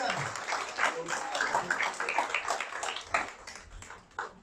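Church congregation applauding during a thanksgiving service, a scattered patter of claps mixed with voices and cheering, moderately loud and fairly close throughout.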